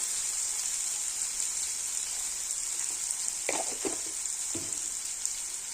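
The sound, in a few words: spices with chili powder frying and stirred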